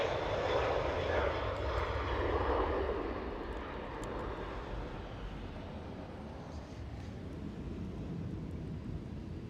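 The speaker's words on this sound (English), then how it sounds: "Delta Airlines A330. Speeding down runway 24 for the departure." A Delta Airlines A330 takes off on runway 24 at Amsterdam Schiphol, its engines a broad, distant roar that is loudest at first and then gradually fades and thins.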